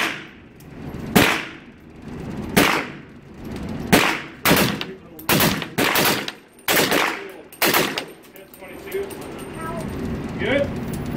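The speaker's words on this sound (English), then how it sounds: "So let's go back to shoot some more." Rapid gunshots from a 300 AAC Blackout rifle firing 230-grain cast lead bullets with a double-tap trigger, roughly a dozen sharp, loud reports in uneven pairs and singles, each followed by a short ring-out, then quieter handling noise.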